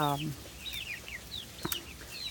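Chickens cluck and call nearby, with a rooster-like note at the start and scattered bird chirps over a quiet background.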